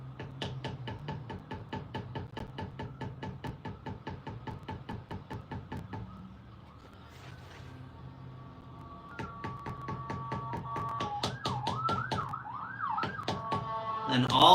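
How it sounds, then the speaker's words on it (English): An ambulance siren wails past a leatherworking shop, its rising and falling tone loudest near the end, over a steady rhythmic tapping of a small curved beveler on leather. "that's like the 4th ambulance that has gone by today already"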